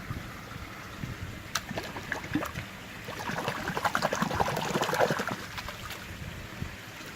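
Water being poured into an outdoor koi pond on a windy day, a soft trickling splash that builds in the middle and then eases off, fairly quiet with light wind noise underneath.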